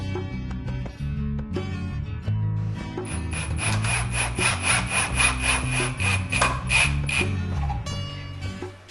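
Wooden cross supports, cut at 45 degrees for an outdoor deck-style build, are sawn off with a fast, even run of back-and-forth strokes that sound close and loud, then stop near the end.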